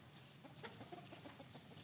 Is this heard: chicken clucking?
yes